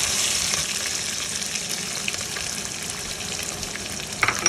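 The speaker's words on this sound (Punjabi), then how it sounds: "ਆਪਾਂ ਜੀਰਾ ਪਾਤਾ ਬਸ ਆ ਜੀਰਾ ਬਰਾਉਨ ਹੁੰਦਾ ਵਾ" Cumin seeds fry in hot oil in a pan for stuffed bell peppers, a steady dense sizzle running throughout with a few sharper crackles near the end, close and fairly loud with no talking.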